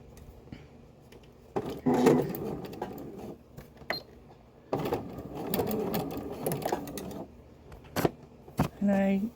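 A sewing machine stitches pants fabric in short bursts of rapid close whirring, separated by pauses with handling noises and a quiet voice.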